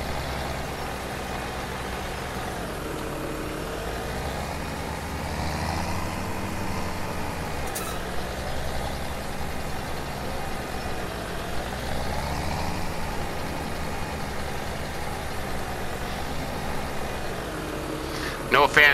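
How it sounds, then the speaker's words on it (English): Tractor engine droning steadily while pulling a seeder planting winter wheat in Farming Simulator 17, a continuous mid-level rumble that rises and falls slightly with load, alone for most of the stretch. "No fancy GPS in this tractor, this seeder."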